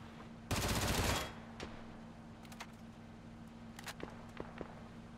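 Decoy grenade in the PUBG video game imitating gunfire, a rapid burst of automatic-sounding shots lasting under a second, followed by faint scattered pops and footsteps over a steady low hum.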